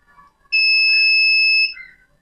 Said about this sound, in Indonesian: kalau ada gerakan dia akan menyala atau bunyi ya